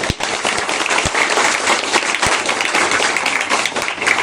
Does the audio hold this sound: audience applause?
yes